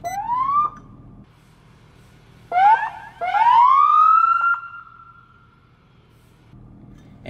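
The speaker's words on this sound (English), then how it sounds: "This is for the siren." A 2021 Dodge Charger Pursuit police car siren rises in a single whoop, then after a pause whoops again in a couple of quick bursts and a long rising wail that holds, loud and close.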